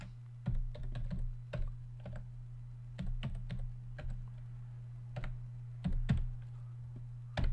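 Close computer keyboard typing in irregular bursts of quick keystrokes with short pauses between, over a steady low electrical hum.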